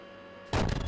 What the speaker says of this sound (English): Holy shit, that was a big explosion.